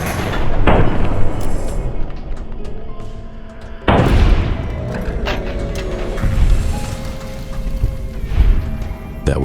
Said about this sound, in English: 2 bullets later and the man lay dead on the ground